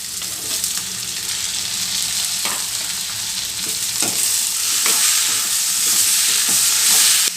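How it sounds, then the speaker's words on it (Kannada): Tomato added to paneer masala sizzles and fries in a pan while a spoon stirs it, a steady close hiss with scraping strokes, no talk. "ಇದೆಲ್ಲ ಚೆನ್ನಾಗಿ ಫ್ರೈ ಆಗಬೇಕು ಈಗ ಟೊಮೆಟೊ ಸೇರಿಸ್ತಾ ಇದ್ದೀನಿ"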